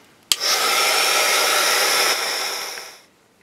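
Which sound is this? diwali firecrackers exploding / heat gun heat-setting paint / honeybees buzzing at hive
heat gun heat-setting paint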